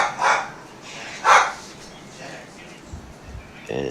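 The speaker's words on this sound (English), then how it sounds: "somebody let dogs in the broadcast booth again" Dogs barking inside a racing broadcast booth, two loud sharp barks close by followed by a softer yip, with talking around them.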